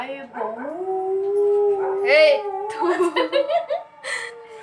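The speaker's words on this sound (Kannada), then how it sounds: "ನಾಯಿ ಹೇಳ್ತಾವೆ" Dogs howl in long, rising and wavering tones, several voices overlapping up close, with breaks between drawn-out cries.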